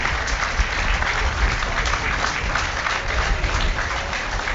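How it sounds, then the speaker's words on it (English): Steady applause from Whitehaven rugby league fans in a stadium grandstand, a continuous wash of many hands clapping at a fairly distant, even level with no break. "He's going to get applause from the Whitehaven contingent around us in the grandstand."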